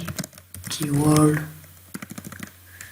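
Keys clatter on a computer keyboard as a keyword is typed, with quick clicks before and after a voice speaking close by.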